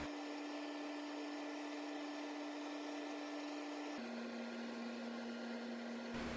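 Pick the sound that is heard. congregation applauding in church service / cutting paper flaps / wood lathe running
wood lathe running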